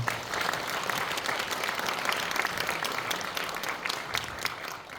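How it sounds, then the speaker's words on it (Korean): Audience at a blockchain conference breaks into sustained, dense applause, loud and even throughout with many hands clapping at once. "다시 한번 뜨거운 박수 부탁드리겠습니다"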